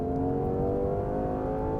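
A 2026 Lexus LC500 pulls hard at full throttle, its engine note loud and close, climbing in a brief continuous surge.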